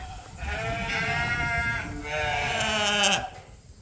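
Adult ewes being moved across a farm bleat in overlapping calls, several loud, wavering cries following one another close by with little pause between them.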